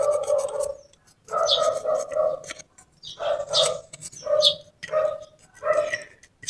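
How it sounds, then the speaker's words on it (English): Dog barking in repeated short bursts, fairly close and loud, with brief pauses between barks, heard during a home workshop session of sanding with 120-grit paper in the Philippines. "Sorry, the dog's barking."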